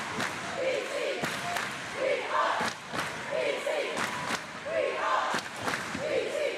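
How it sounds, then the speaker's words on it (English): A high school boys basketball crowd on its feet, filling the gym with a sustained roar of cheering and shouting, broken by sharp thuds and slams, with voices mixed throughout. "Big crowds for both sides on their feet."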